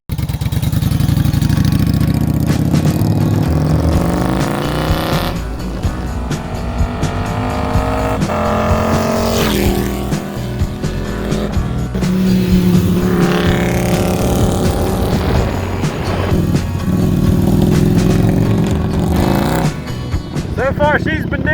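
A cruiser motorcycle converted into an adventure bike rides down the road, its engine droning loud and close with rising and falling pitch sweeps as it accelerates and shifts, plus a rush of wind throughout.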